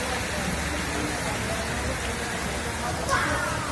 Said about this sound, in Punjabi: ਬੱਦਲ ਕਾਫੀ ਤੇਜ਼ ਹੋ ਗਿਆ।